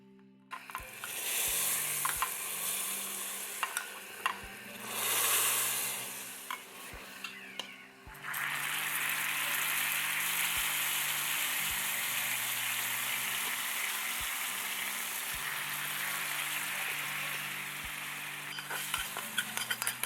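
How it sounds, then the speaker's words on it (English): Fried cilantro and garlic hit boiling hot mlokhiyeh in an Instant Pot, setting off a loud, sustained sizzle that jumps in intensity partway through, with a few light clinks of a spoon stirring. "add our fried cilantro and garlic to our boiling hot mlokhiyeh"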